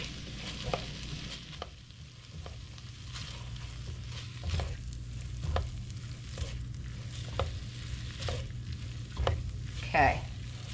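A stuffed pepper and rice skillet mixture with salt and pepper is stirred in a hot pan, giving a steady low sizzle with repeated scraping strokes of the spoon, close up and with no talking.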